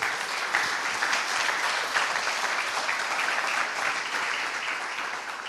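A church congregation applauds the Lord during a sermon, dense and steady clapping from a crowd that fills the space at even loudness throughout.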